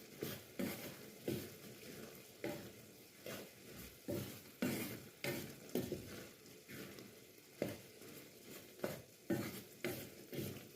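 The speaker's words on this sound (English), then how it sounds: "Just stir it up a little bit." Fried dumplings and beans stirred in a pot: a faint, rhythmic series of spoon scrapes and soft knocks roughly every second over a quiet background, no talk.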